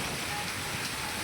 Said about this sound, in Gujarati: ફાઇનલી મિત્રો વરસાદ આપણે આવી ગયો છે